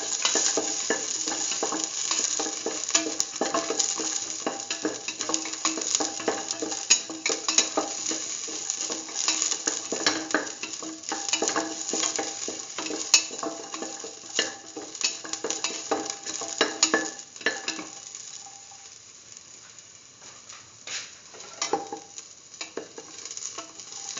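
Garlic fries in a pot for a lentil pumpkin stew, giving a busy, steady sizzle with repeated scraping stir strokes and utensil clinks, close and fairly loud, then easing off toward the end.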